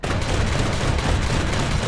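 Twin 37mm autocannons on a Flakpanzer 341 fire in War Thunder realistic battles: a loud, continuous stream of rapid shots for the whole span, blending into a dense rattling roar with no pauses.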